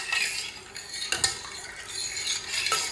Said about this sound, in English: So I'm gonna stir a little bit more, making sure everything is